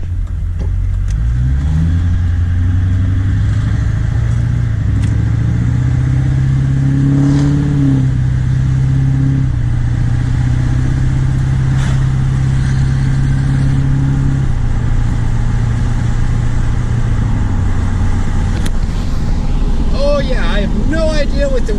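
An LB7 Duramax diesel truck with a boost valve installed revs and pulls while driving, its engine and turbo rising and falling loudly under wind noise as a person talks.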